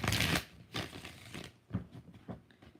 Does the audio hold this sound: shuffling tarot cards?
yes